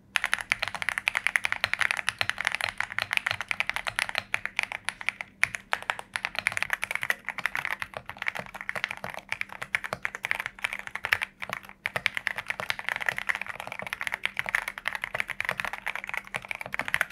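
Mechanical keyboard, a Vortexseries Xera Series 87, typed on steadily with quick, even key clacks in a continuous close-up rhythm at fairly low volume, with no voices.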